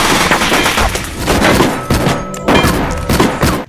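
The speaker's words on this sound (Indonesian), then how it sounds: "Lalu aksi baku tembak pun terjadi." Gangster-film gunfight with dense, continuous volleys of gunfire and heavy thuds, loud and close throughout, shots overlapping in rapid bursts.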